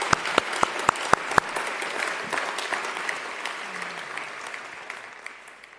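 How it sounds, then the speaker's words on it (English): Audience applause at a university opening ceremony, starting with a few sharp, loud individual claps that swell into steady clapping from a crowd and then slowly thin out. "we want to applaud him, Oleksiy."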